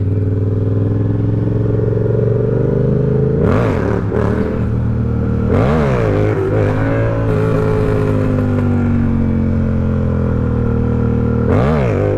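A Yamaha R7 motorcycle revs hard during a wheelie attempt, its loud close engine holding a steady drone broken by several sharp rising and falling throttle blips.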